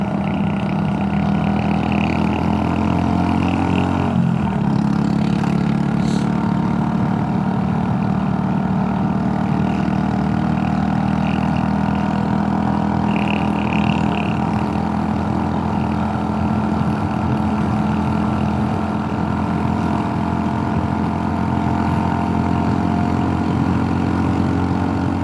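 Scooters riding through a quiet little town in the Rockies during the Scooter Cannonball rally: a continuous loud engine drone close by, steady throughout, with a small shift in tone partway through.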